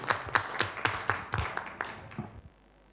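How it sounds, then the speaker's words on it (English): An audience claps at a regional training course, a sparse round of distinct, moderately close hand claps that thins out and stops near the end, with a faint voice underneath. "Thank you very much, and a big applause."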